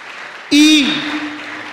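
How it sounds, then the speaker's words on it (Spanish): A church congregation applauds during a Spanish-language evangelical service, a sudden loud burst that starts mid-clip and carries on with a voice calling out over it. "Un fuerte aplauso al Señor."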